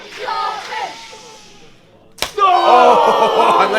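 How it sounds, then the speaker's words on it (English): A single sharp chop lands in a pro wrestling match, one loud crisp slap on chest, followed at once by a roaring crowd reaction, after a quieter stretch of murmuring. "The crowd want to see a chop."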